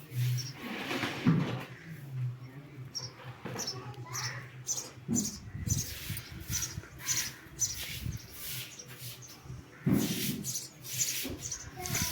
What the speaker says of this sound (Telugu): మాకు బాగా పిచ్చుకలు అవి ఉంటాయి అన్నమాట సౌండ్ చూడండి ఎలా వస్తున్నాయో